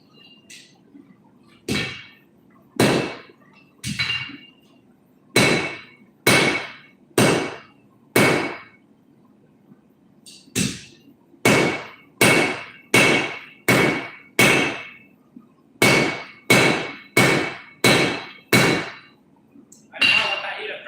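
Lighter hammer forging a railroad spike on an anvil, sharp ringing strikes in quick bursts of several blows with brief pauses between, close and loud over a low steady hum.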